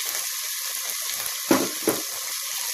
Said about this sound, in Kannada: ನೋಡಿ ಸ್ವಲ್ಪ ಫ್ರೈ ಆಗಿದೆ, ಟೊಮೆಟೊ ಹಾಕೋತಾ ಇದ್ದೀನಿ